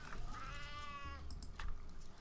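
A single drawn-out cat meow from the video game Sheltered rises and falls over about a second, followed by a few faint clicks over a low background hum.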